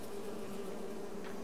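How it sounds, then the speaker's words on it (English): Bees in the Farming Simulator video game, on The Western Wilds map, buzz in a continuous steady hum with no talking over it. "Let's check our bees."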